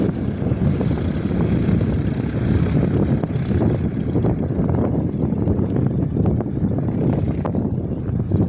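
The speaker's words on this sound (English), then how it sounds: "the blue Cessna 150 that landed earlier is going out for a second flight" A Cessna 150 light aircraft taking off on a windy day, a steady droning propeller engine mixed with heavy wind buffeting on the microphone, continuous and without talk.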